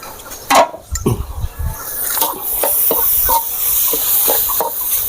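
Field rat meat sizzles and crackles in a hot wok with a steady frying hiss, broken by repeated scraping stirs of a utensil.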